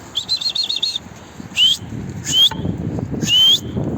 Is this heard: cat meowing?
no